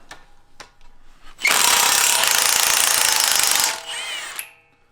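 A Milwaukee impact wrench rated at 1,400 foot-pounds hammers loudly for about two seconds while working on a Ford Dana 60 axle, after faint clicks and before a shorter rattling burst that stops abruptly, with no voices.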